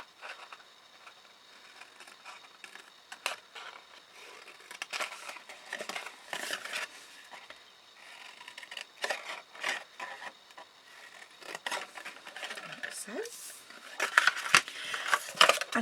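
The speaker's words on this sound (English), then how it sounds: "use our snips just to trim and cut a little wedge out on all 4 corners" Snips cut wedges out of the corners of a card stacker box, giving a string of crisp close snips and papery crinkles and rubs, irregular and growing busier toward the end.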